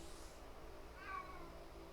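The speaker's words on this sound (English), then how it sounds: "my cat's on a screaming spree tonight" An old cat meows and screams once, a faint, drawn-out wavering cry rising near the middle of an otherwise quiet, low room hum.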